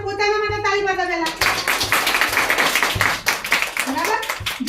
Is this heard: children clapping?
yes